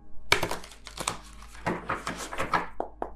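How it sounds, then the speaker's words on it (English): Tarot cards being shuffled by hand in a run of crisp, rapid riffling and flicking bursts, close and fairly loud, with short pauses between them and no talk. "One more shuffle."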